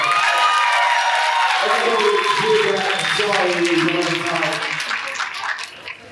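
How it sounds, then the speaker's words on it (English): Applause and cheering from an audience at a voice-actor panel during a festival event, loud and sustained clapping with a few whoops, slowly thinning out toward the end, with talk mixed in underneath. "you're going to give that a round of applause"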